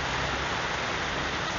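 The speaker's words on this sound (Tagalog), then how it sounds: "So bigla naman umulan na naman." Steady rain pours down at a car home in the Philippines, a dense, even hiss with no breaks, no voices and a soft low rumble beneath it.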